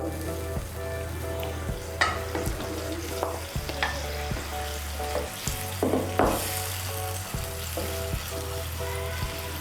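Pre-fried eggs tumble into a hot frying pan and get stirred, with a loud continuous sizzle broken by rhythmic clinks and scrapes of the spatula against the pan, close up and without talk.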